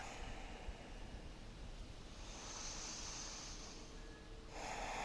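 Deep, slow breathing during a yoga flow, a steady airy rush of inhales and exhales that is close and fairly loud, with no talk over it.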